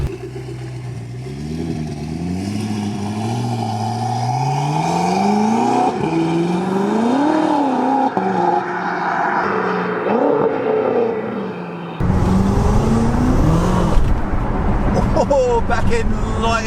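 A 700bhp BMW M6 with a full Armytrix exhaust accelerates through the gears with a loud, raspy, rising engine note, pitch sweeping up and dropping at shifts, while people talk over it.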